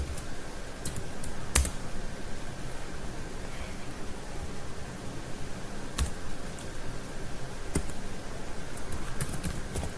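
Fingers type steadily on a computer keyboard while entering code, a soft continuous patter of close key clicks with a few louder, sharper strokes, likely the space or enter key, over faint background hiss.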